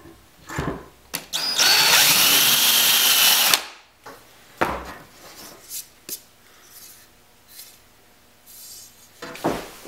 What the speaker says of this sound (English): I'm going to use a special drill bit called a VIX bit